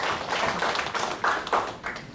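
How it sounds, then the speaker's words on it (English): An audience in a training session claps together, with loose, uneven clapping rising in a few distinct swells over roughly two seconds. "So can we clap for him and request him to come to him?"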